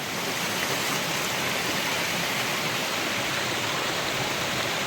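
Handri-Neeva canal water pours into a village pond in a steady, dense rushing wash that stays even and loud throughout, with no voices.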